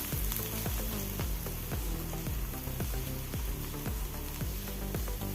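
Jackfruit seeds fry in a pan with a dense, continuous sizzle. Regular low thumps and scrapes from stirring run through it, loud and close throughout.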